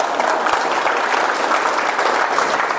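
An audience claps steadily and densely for a few seconds, a loud continuous wash of applause with no voices on top.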